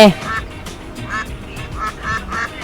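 A duck in Roblox quacks repeatedly in short nasal bursts at an uneven rhythm, moderately loud and close.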